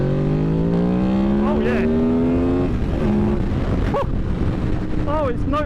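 A Honda VFR800 motorcycle engine revs steadily up toward its VTEC range at around 7,000 RPM, a loud rising whine with a few sharp throttle blips. Someone speaks over the engine.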